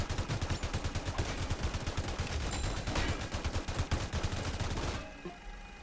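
Several mini gunner towers in Roblox Tower Defense fire rapid, evenly spaced bursts that run together into a steady, fast rattle for about five seconds before cutting off abruptly.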